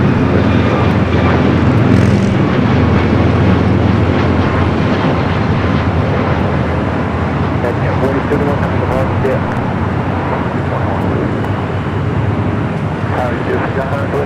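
An airliner taxiing out at Los Angeles airport makes a steady engine rumble and whine mixed with general airport noise.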